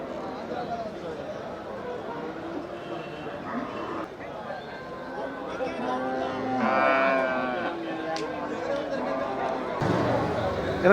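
Cattle low and moo at a busy livestock market in Melapalayam, one drawn-out call rising clearly over steady crowd chatter and nearby talking voices.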